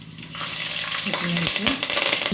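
Onions sizzle in hot oil in a pan for a Madimal fish curry, a close, steady frying hiss broken by short scraping and clinking stirs.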